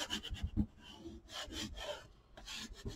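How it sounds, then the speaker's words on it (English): Paper pieces being burnished onto a mini album, soft close rubbing strokes in short uneven bursts, quiet, with no speech. "you're just going to go ahead and burnish those in real good."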